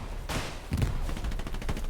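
Grenades burst in rapid succession in the World War II shooter Hell Let Loose, during a competitive match on the Carentan map, a dense cluster of loud thumping blasts and crackling debris that crowd together over a couple of seconds.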